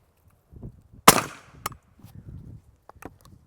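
Suppressed rifle shot through a Dead Air Ghost silencer on an outdoor range, one sharp muffled crack with a short decaying tail, then a few faint knocks and low background rumble.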